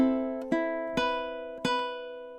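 Four plucked ukulele notes from measure 3 of a song ring out one at a time in slow counted time. Each one sustains and overlaps the next. The instrument is close and clear, with no talking.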